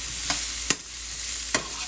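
Food cooking in a pan being stirred, with three distinct scraping strokes of a utensil over a constant close sizzle.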